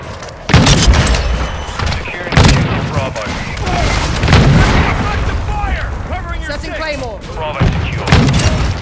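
Heavy booms and bursts of explosive fire from a mortar strike in a military shooter game, landing in repeated loud blasts under radio-style voice chatter.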